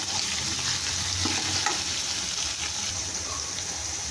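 Onions fry in hot oil with a dense, continuous sizzling hiss that holds steady and fairly loud throughout, with no talking.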